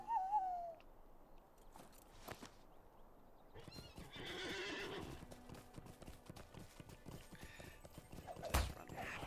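A horse in a video game whinnies at the start, then its hooves clip-clop in a steady trot as it is ridden, set against game ambience with an owl-like hoot and other faint effects.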